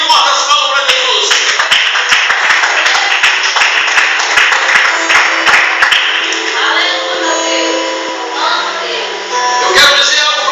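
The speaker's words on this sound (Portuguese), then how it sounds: "Bem forte as palmas para Jesus" A church congregation claps loudly and steadily, the sharp hand claps running over sustained music or singing for the whole stretch.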